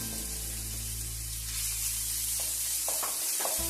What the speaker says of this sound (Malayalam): ഇനി ഇതിലേക്ക് നമുക്ക് ഇഞ്ചി വെളുത്തുള്ളി ചതച്ചതൊന്ന് വെച്ച് അതിൻ്റെ ഇട്ട് കൊടുത്ത് അതിൻ്റെ പച്ചമണം മാറുന്നത് വരെ വെയിറ്റ് ചെയ്തിട്ട്